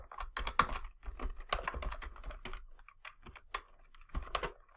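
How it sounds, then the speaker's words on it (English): Someone types on a computer keyboard while coding in R, producing close, quick clusters of key clicks in uneven bursts with short pauses and no speech. "I'm going to need to put a backtick here around school name because of the space"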